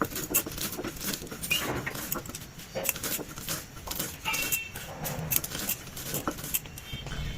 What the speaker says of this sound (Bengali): বাদামটা একটু গুঁড়িয়ে নিচ্ছি।